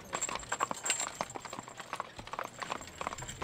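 Hooves of a carriage horse clip-clop along the street in Lexington, a steady run of sharp knocks close by with faint background bustle and no talk.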